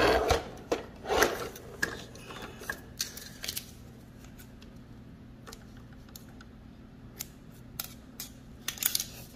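Scissors snip hair tangled on the brush roller of a Roomba i7+ robot vacuum, giving a series of crisp, close cuts in irregular bursts with quiet gaps between them.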